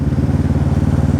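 A modified British-style Suzuki Inazuma motorcycle on a test ride gives a loud, close, steady engine drone with a fast, even pulsing beat throughout.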